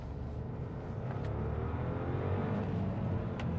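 Audi A3 1.0 TFSI three-cylinder engine accelerating on a rural road, a steady throaty engine note rising gently and heard from inside the car, moderately loud with no talk over it.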